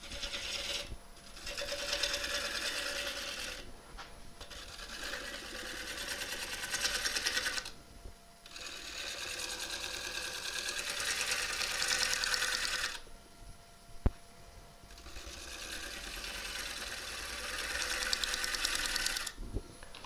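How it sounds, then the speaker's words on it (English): A wood lathe spins at 576 rpm while a gnarly crotch piece is turned, giving a steady motor hum and broad cutting hiss that drops out briefly several times, with one sharp tap near the middle. "So the lathe at the minute is at 576."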